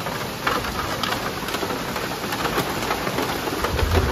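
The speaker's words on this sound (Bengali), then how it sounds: "আবার বৃষ্টি শুরু হয়ে গেল।" Steady rain falls throughout, a dense even hiss of drops on surfaces that stays close and constant with no pauses and no voices.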